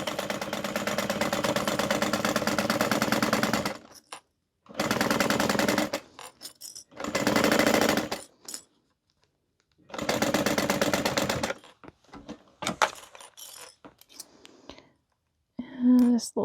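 A sewing machine stitches down the raw seam of a tote bag in loud, close bursts of rapid whirring, separated by pauses and small clicks, with a quiet voice speaking near the end.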